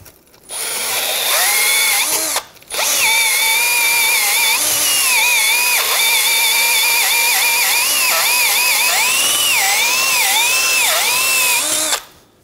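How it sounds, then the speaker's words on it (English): Motorized wire brush scrubbing the inside of a ball joint cup on a front control arm of a 2010-2014 Subaru Outback, a loud continuous whirring grind with a brief pause, wavering pitch as pressure shifts. "Using our wire brush, we're gonna clean inside of the ball joint cup."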